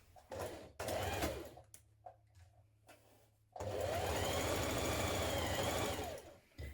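A sewing machine stitches a seam on a trapeze dress in bursts: a short run, a pause with faint handling, then a longer steady whirring stretch of rapid stitching that cuts off at the end.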